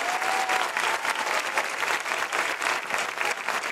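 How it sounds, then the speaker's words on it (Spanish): Dense, steady applause from a large crowd at an outdoor political campaign rally in a park in Alicante, sustained loudly throughout with no break. "Quiero pediros un aplauso cerrado para las personas que hacen posible estos actos"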